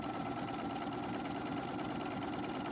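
A sewing machine stitches along a pillowcase edge, a steady fast whirring buzz with no pauses, close and moderately quiet, with no talking.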